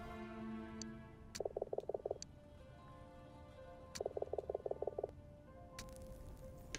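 A frog in the video game Ghost of a Tale croaks in two bursts of rapid, rhythmic calls over quiet game ambience, each burst a quick run of about six loud croaks.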